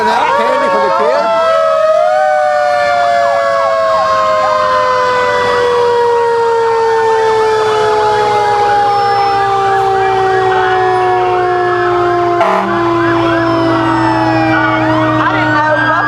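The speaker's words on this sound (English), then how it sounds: "3 big fire trucks." Several big fire trucks roll through a Buffalo Christmas parade, their sirens wailing loudly and continuously with slowly falling, overlapping tones, joined by a brief horn blast near the end.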